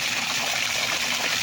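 Water from a burst faucet gushes in a steady, loud, continuous rush with broad hissing spray, close by and running without pause and without talk.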